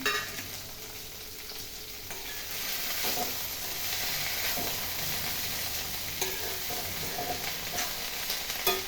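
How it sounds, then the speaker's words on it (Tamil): Coriander and mint chutney ingredients are sautéed and stirred in a pan for a drumstick-leaf thovayal, giving a steady close sizzle with stirring scrapes throughout and no talking. "எல்லாத்தையும் சேர்த்து நல்லா வதக்கி எடுத்துக்கலாம்."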